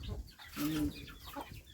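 A chicken gives a short cluck amid faint background sounds, fairly close and brief.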